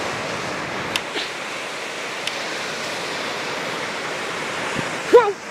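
Ocean surf washes steadily onto a beach in the middle of winter, a continuous broadband roar with a few brief knocks and a short louder burst near the end.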